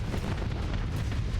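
Missiles striking a ship during a carrier fleet battle in Starsector, a dense, continuous rumble of overlapping impacts and booms with no clear gaps.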